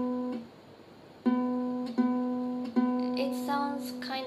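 A single string is plucked again and again while being tuned to C, giving four or five clear ringing notes about a second apart, close and moderately loud, with no talking.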